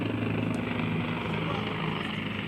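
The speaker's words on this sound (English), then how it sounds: "And we have a helicopter flying directly over us, making an extremely loud noise." Loud, steady rotor and engine roar from a helicopter passing directly overhead at an outdoor high school football game, sustained throughout with crowd murmur underneath.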